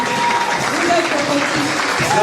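Congregation clapping during a church service, a brief burst of dense applause with voices singing or speaking through it.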